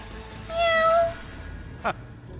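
A house cat meows once, a drawn-out clear meow at close range, followed by a brief faint squeak, with no talking.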